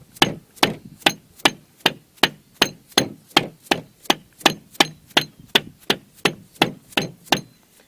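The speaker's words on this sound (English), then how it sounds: "Using a dead blow nylon hammer," A lead-loaded nylon dead blow hammer strikes a CV joint on an Arctic Cat H1 650 four-wheeler, about nineteen evenly spaced, loud close-up blows landing in a steady rhythm, with no talking.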